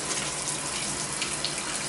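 A bathtub faucet runs at full pressure, giving a dense, even rush of water that fills the whole stretch with no pauses.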